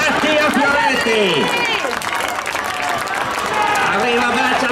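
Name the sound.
crowd applauding a cyclist finishing a track race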